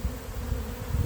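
A swarm of honeybees hovers over an apiary near transparent hives, giving a low, steady droning buzz that swells and fades slightly, fairly close and alone with no voices.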